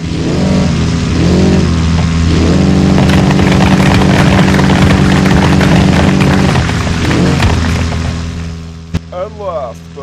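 A Tic Tac car with a boxer engine roaring in BeamNG.drive, a loud sustained droning rev with pitch rising and falling, fading out near the end as a voice briefly speaks.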